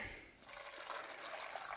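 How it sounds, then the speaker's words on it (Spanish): Water is poured into a blender with onion and garlic for a red salsa: a steady, close, hissing splash and trickle with no pause, heard alone. "Y aquí le echamos el agua."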